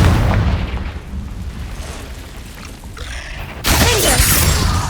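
A Confringo blasting spell goes off in Hogwarts Legacy with a loud booming explosion and a crackling burst. A second sharp blast lands near the end.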